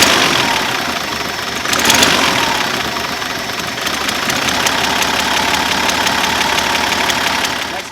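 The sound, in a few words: Datsun 280ZX engine running with a misfire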